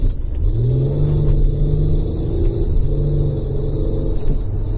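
A 2003 Renault Vel Satis 3.5 V6 Initiale accelerates hard on automatic kickdown, its engine note climbing in a smooth rising drone with a shift partway through, loud and close with a deep rumble underneath.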